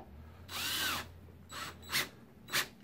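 Power drill driving screws into the bottom of a virtual pinball cabinet: one longer whirring run, then several short bursts as the screws seat. The drill sounds close and clear, with no talking.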